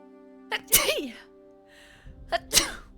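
Two sharp sneezes about two seconds apart, each a quick breathy intake followed by an explosive burst, close and loud.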